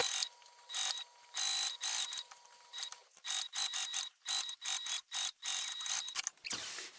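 A sewing machine top stitching a fabric bag seam, rapid mechanical clattering in repeated short bursts with brief pauses between, close and fairly quiet.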